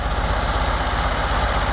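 Oliver 1550 tractor engine idling during disking work, a steady loud low chugging rumble with an even pulsing rhythm and no voices over it.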